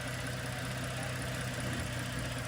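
A car engine idles steadily and close, its low rumble even and unbroken, while the upgraded daily driver sits in place with its battery and alternator being checked. No voices are heard.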